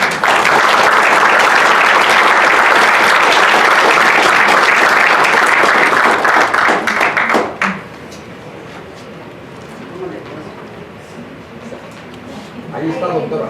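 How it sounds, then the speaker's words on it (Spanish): At an AI-in-education conference panel, an audience bursts into loud, sustained applause for around seven seconds, then it quickly dies away into room murmur and a few faint voices. "Recibamos con un gran aplauso"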